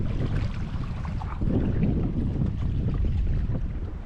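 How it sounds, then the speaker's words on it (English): Wind buffeting the microphone while canoeing along the Caledonian Canal on the Great Glen Canoe Trail, a continuous low rumble and rush with gusts swelling midway, no voices. "There's a bit of a wind this morning"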